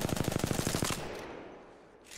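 Rapid automatic gunfire in Apex Legends aimed at a moving training dummy: about a dozen sharp shots in quick even succession, then a fading reverberant tail, loud and close with no talking.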